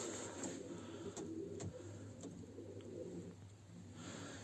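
Pigeons in a coop cooing softly and repeatedly at close range, low murmuring calls over quiet background noise with a few light clicks and taps.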